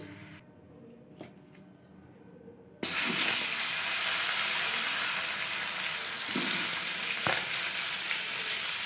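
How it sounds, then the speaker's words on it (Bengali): Cauliflower florets frying in hot oil in a home kitchen, after potatoes, give a steady loud sizzle that starts abruptly partway through and continues with occasional clinks, following a quieter opening. "এরপর আমি আলুটা নামিয়ে নিয়ে ফুলকপিটা ভেজে নিচ্ছি।"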